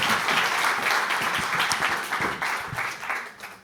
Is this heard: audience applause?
yes